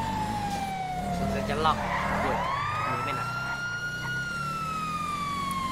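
A wailing police siren in the video game GTA V, rising and falling in long sweeping tones, loud and close over vehicle engine noise, with a voice speaking briefly over it.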